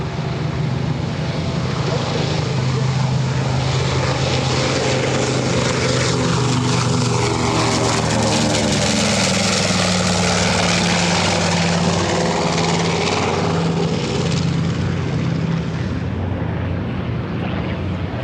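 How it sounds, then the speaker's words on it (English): An A-26 Invader, the fastest WWII attack bomber, flies past at an airshow: a loud, continuous piston-propeller drone rises and falls in pitch as it passes, with a faint voice under it. "another hot rod airplane from World War II. A-26, the Attack 26, the fastest bomber of World War II."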